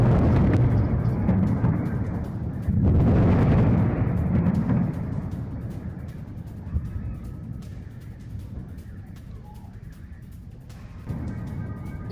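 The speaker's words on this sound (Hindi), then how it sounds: "ये देखिए, एक और हमले की तस्वीर आपको दिखा रहे हैं। तबरीज में, ईरान के तबरीज में अटैक।" Explosions from US missile strikes on Tabriz, Iran, heard as heavy distant booms and rumbling blasts in bursts early on, then fading into a lower background rumble with scattered cracks.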